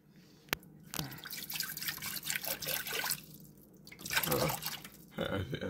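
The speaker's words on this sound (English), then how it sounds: "Got our water. We're going to pour it into the pot." Water poured into a cooking pot while making ramen noodles gives a steady close trickle and splash with drippy texture, and a voice talks over part of it.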